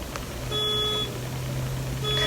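An electronic alarm beeps in two tonal bursts, each lasting about half a second and separated by a pause. It sounds from a distance above a steady low background hum in a store.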